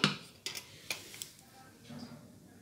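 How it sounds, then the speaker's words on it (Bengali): Mughlai mutton curry is spooned from the cooking pot into a bowl, with a few sharp metal clinks and scrapes spaced apart, then a softer, quieter shuffle of movement. "এবার একটা পাত্রে তুলে নিচ্ছি।"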